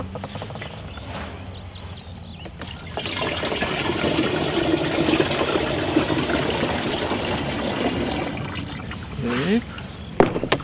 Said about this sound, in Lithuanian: pripilam vandens iki 10 litrų